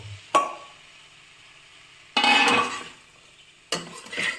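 Vegetable kurma with parboiled vegetables being stirred in a pan: three separate bursts of spoon scraping and clinking, the second one longest, with quiet gaps between them.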